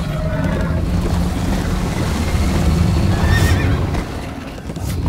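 A horse neighs over drumming hoofbeats during a chase in Minecraft: Story Mode, loud and close, with rushing ambient noise beneath and no talk.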